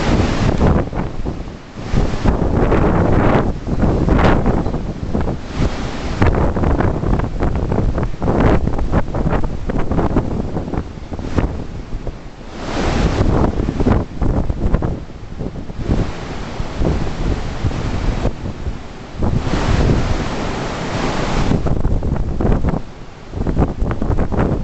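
A strong windstorm with a flag and trees in the gusts, roaring and buffeting the microphone loudly and almost without a break. Surges and brief lulls come and go, with no voices.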